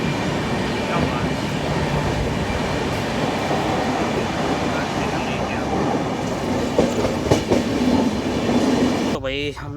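The Okha Nathdwara Express runs with a continuous loud rumble and rhythmic clatter of wheels, heard from inside near a station, with a brief voice near the end.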